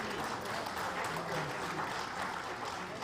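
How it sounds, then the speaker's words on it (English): Steady, even applause from an audience at a Nigerian institute event honouring a speaker, a continuous wash of clapping heard at a distance and fairly faint. "Nigerian women, please give him a big round of applause."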